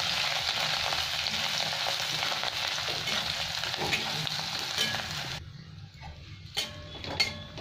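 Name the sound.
ginger and garlic frying in oil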